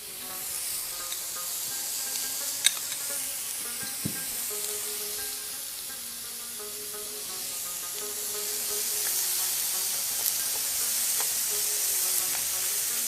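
Garlic fries in butter with a continuous soft sizzle and hiss, steady and close, broken by a couple of faint clicks.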